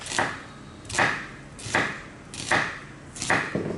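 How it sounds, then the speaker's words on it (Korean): Five knife chops slicing an onion into thick strips land on a cutting board at a steady, unhurried pace, each a crisp thunk with no talking. "양파 약간 굵직하게 채 썰어 줄 거예요"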